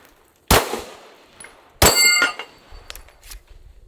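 Two sharp metallic clangs about a second apart as shots from a Glock P80 pistol strike a steel Texas Star target, each followed by a ringing decay and a few faint clinks afterward.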